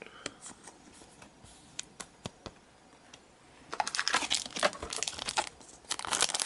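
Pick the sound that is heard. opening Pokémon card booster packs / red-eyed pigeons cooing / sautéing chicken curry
opening Pokémon card booster packs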